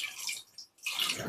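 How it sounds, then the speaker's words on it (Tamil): Water is poured into a pressure cooker holding potatoes, a faint splashing gush that breaks off briefly midway and then resumes. "இப்போ தண்ணி ஆட் பண்ணிடலாம்"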